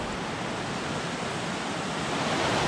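A small river flows near rapids, giving a continuous broadband rush of water that holds steady and fairly close, with no speech over it.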